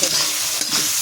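Potatoes fry with spices in a pan — Kashmiri red chili, turmeric, salt and tomato — giving a steady, close, dense sizzle with faint stirring scrapes throughout, no talking.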